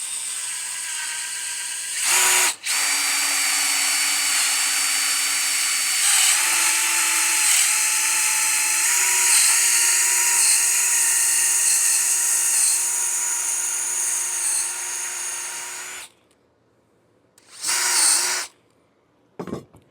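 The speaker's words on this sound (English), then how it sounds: "And you want to make sure you keep the drill straight." A power drill bores into wood with a loud, steady high-pitched whine that runs for about fourteen seconds, its pitch shifting slightly under load, followed by two short bursts after a pause.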